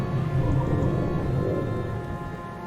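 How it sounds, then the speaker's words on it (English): Rain and a low rolling rumble of thunder in a Wallace & Gromit video game, a steady dense wash of rainfall that fades slightly toward the end, with no talking. "That's thunder, all right."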